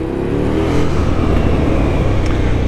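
A KTM Duke 990 motorcycle engine runs and revs steadily nearby, a loud continuous rumbling drone that rises slightly, with no talking.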